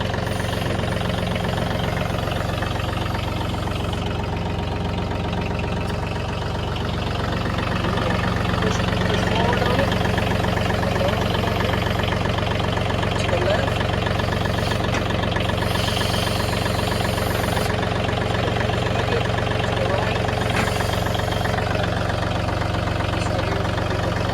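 A John Deere 3032e compact tractor idles steadily up close while its loader is worked, a constant low engine drone with a mechanical knock that holds without break through the whole stretch.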